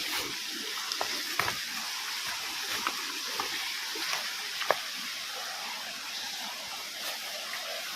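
A waterfall at Tanwat in Nuapada district gives a faint, steady rushing hiss, with occasional soft splashes and clicks over the constant flow.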